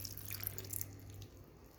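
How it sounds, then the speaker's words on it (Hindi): Water pours from a glass into a cooking pot set over a flame, giving a short quiet splashing trickle that fades out, with a faint low hum beneath. "ये मैंने इसमें 1 गिलास पानी डाल दिया है"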